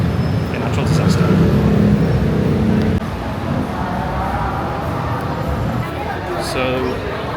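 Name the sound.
traffic jam in central Bangkok after earthquake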